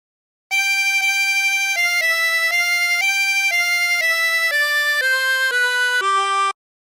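A clear reedy 24-hole tremolo harmonica plays the melody of The Streets of Laredo in sustained single notes, each held about a second, stepping downward toward the end.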